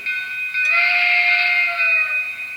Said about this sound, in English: you can go ahead and hit that whistle, that horn, that whistle right there